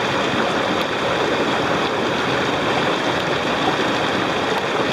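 A high country mountain creek at a fish stocking spot rushes in a steady, broadband wash, loud and continuous with no pauses or voices.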